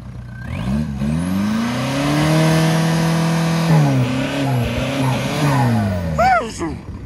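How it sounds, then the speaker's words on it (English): A turbo diesel truck with a straight pipe exhaust revs hard and close by, its loud engine note rising and holding with a turbo whine, then dropping and climbing again in several pulls. "It's turbo diesel. And she's straight pipe. Rev it up for us."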